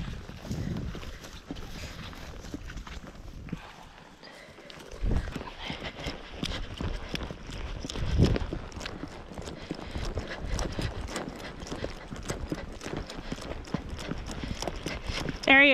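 A horse walks at a field trial outdoors, hooves clip-clopping in an uneven rhythm at moderate distance, mixed with wind noise and scattered background sounds.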